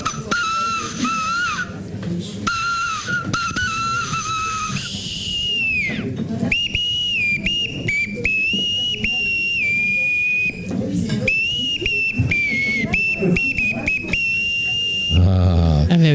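A whistle made from a hazelnut blows a long run of shrill, piercing notes that are often held. Some notes slide in pitch and some break off in short bursts. It plays loud and close throughout, with a brief low noise at the very end.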